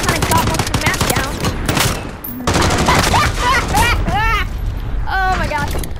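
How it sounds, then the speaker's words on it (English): Rapid gunfire crackles in Modern Warfare multiplayer, in dense bursts of shots under a player talking over the game's noisy battle mix. "I just shot this guy, ran out of ammo, and I went into a melee"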